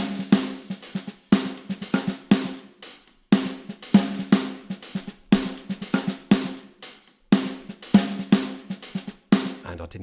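A drum kit from Ableton's studio drummer plays unequalised in a steady groove of punchy kick and snare hits with cymbal wash, repeating in a regular pattern of bars.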